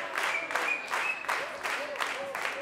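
Audience clapping after a live instrumental concert tribute, with steady sustained applause in waves, near and full, and someone speaking over it.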